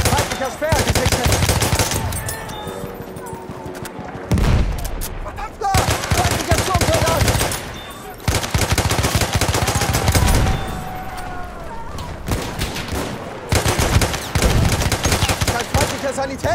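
Sustained machine gun fire in a World War I–style shooter, with long loud automatic bursts broken by short pauses. A Fedorov-Degtyarev and frag grenade are in the mix, and shouted voices sound under the shooting.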